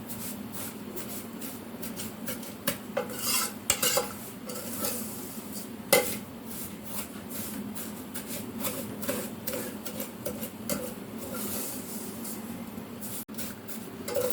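Vermicelli being stirred in a pan while cooking for a sweet zarda, giving steady scraping and rustling strokes with occasional metal clinks over a faint sizzle, no talking.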